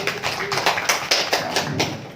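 Applause at a hearing: a small group claps in short uneven bursts, moderately close, the claps ragged and brief with a little murmur beneath.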